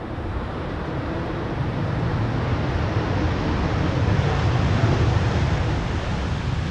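Roar of aircraft thrust reversers as a jet lands at Amsterdam Schiphol in gusty crosswinds, a steady broad rumble that holds strong and swells slightly, mixed with wind noise, with no talk.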